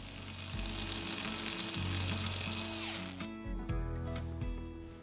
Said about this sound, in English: As I carve the vessels, I continually rotate the workpiece to carve in the direction of the grain.